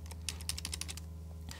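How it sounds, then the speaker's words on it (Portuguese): Computer keyboard keys tapped in quick, irregular bursts while entering notes into Guitar Pro 6 notation software, close and clear over a steady low electrical hum, with no talking. "pelo teclado pode ser um pouco mais ágil, né? A gente escreve quase como se a gente estivesse digitando um texto."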